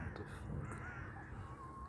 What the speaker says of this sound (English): There's a lone bird.